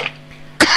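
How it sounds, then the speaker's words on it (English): A single sharp cough bursts out close to the microphone after a stretch of near silence, brief and loud. "Sorry again for the coughing."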